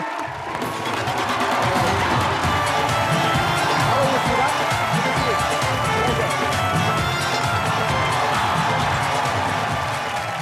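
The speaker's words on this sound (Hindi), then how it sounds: "जोरदार तालियां सिद्धू बाजी के लिए।" A studio audience at a comedy show breaks into loud, sustained applause and cheering, a dense wall of clapping with whoops that carries on for the full stretch without letting up.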